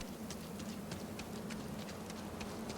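Steady rainfall in the video game Starfield, a soft continuous patter with faint ticking drops, heard alone at low level.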